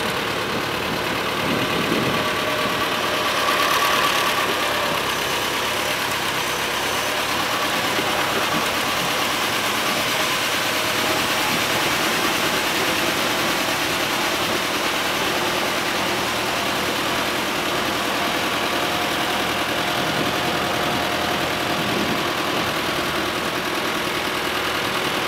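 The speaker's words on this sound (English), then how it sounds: "Going out with the tractor, it's just going to launch us." A tractor engine runs continuously as it reverses a boat down a beach ramp at Dundee Beach in the Northern Territory, a steady mid-low drone with outdoor rumble and no talking.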